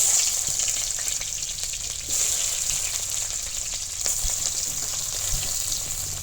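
Onion and garlic fry in hot oil with torn dried chillies, producing a bright, continuous close-up sizzle with subtle stirring that swells and dips every couple of seconds.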